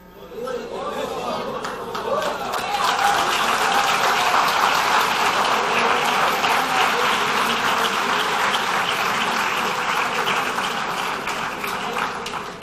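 Church congregation at a reform and revival conference applauding, a dense, sustained wash of clapping mixed with crowd chatter that swells and holds for several seconds.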